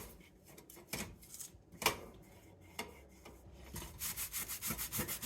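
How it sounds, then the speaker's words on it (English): A scrub brush works over a stove top with Palmolive dish soap, giving faint, uneven rubbing strokes and then a quicker, regular run of scrubbing near the end. "this requires a whole lot of scrubbing"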